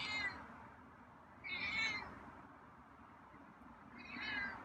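A feral cat meows three times at a distance, each cry drawn out and plaintive, separated by quiet gaps over faint room background.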